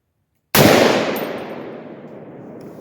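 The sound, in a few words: Palmetto AR-10 rifle firing 150 gr 308 rounds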